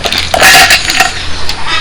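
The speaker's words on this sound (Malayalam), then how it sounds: "പിന്നെ കുറച്ച് ഐസ് ക്യൂബ് ഇട്ട് കൊടുക്കുക" Ice cubes clatter into a blender jar along with gooseberries, green chilli and ginger for a pumpkin shake, a quick burst of hard, close rattling clinks that settles after under two seconds.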